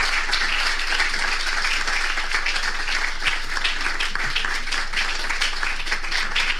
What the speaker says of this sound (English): Can we make that round of applause more?